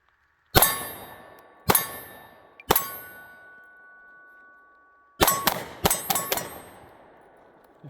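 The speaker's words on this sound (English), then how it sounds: "So we're going to try a little bit more shooting here." An FN Reflex MRD pistol fitted with a red dot fires three spaced shots, then a quick string of about six. Each crack is sharp, with a bright metallic ring trailing behind it.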